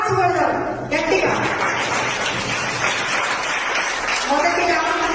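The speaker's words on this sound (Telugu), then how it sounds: "క్లాప్స్ కొడదాం గట్టిగా." An audience claps loudly at a religious gathering, a dense roar of hands rising after a second and holding steady for several seconds before thinning, with voices mixed in.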